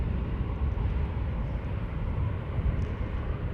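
A KLM airliner, an Embraer E2 arriving from Prague, lands on runway 18R Polderbaan at Amsterdam Schiphol, giving a steady, broad jet rumble that holds at even loudness throughout, without talk.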